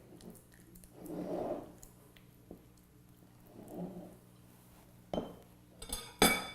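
Meatloaf mixture gets patted down into a mug sprayed with cooking spray: soft, muffled squishing pats come in two slow bursts, then sharper clinks of a utensil against the mug close by.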